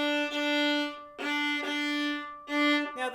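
Viola bowing hooked quarter and eighth notes in 6/8, each pair taken in one bow direction with a brief stop between them; a few close, clear sustained tones played solo.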